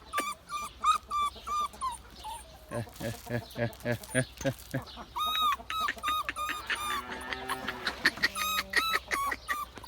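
An Indian-cross village hen in a backyard coop clucks in a rapid run of repeated, rhythmic calls, close and clear, rising into higher squawks toward the end, with a person talking nearby.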